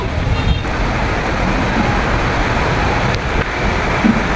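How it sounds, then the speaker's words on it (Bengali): Heavy rain with wind outside a balcony garden, a dense, even roar that holds steady throughout with a few brief louder gusts. "এত বৃষ্টি হচ্ছে বাইরে বাতাস"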